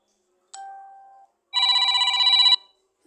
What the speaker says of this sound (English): Sounds like an old phone.